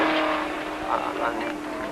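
1974 Holden Torana L34 race cars in a Manufacturers Championship race, their engines giving a steady, strong roar that rises and falls slightly, with a voice talking over them.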